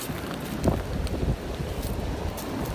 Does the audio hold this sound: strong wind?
yes